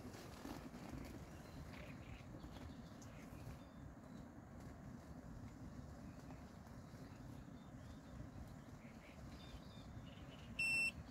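A Boatman Actor Plus GPS bait boat gives a short, sharp electronic arrival beep near the very end, heard over steady outdoor background noise.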